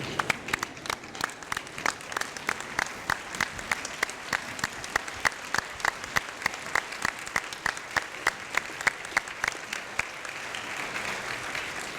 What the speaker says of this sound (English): give them a round of applause for supporting you throughout your journey